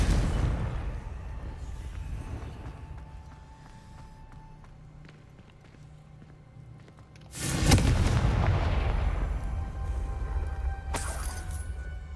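A Confringo fire spell from Hogwarts Legacy blasts with a sudden loud explosive burst after a quieter rumbling stretch, followed by crackling debris and a second sharp impact near the end.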